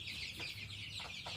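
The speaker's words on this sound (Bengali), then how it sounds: "দেখুন আমার টাইগার মুরগির বাচ্চা" Tiger-breed chicks about three weeks old giving a few soft, faint chirps and peeps in a quiet pen, heard alone without talk.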